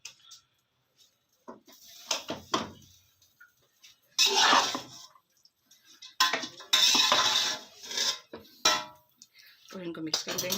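Boiled rice is stirred into a pan for chicken egg fried rice, a utensil clattering and scraping against the metal in irregular bursts while someone talks intermittently alongside the cooking sounds.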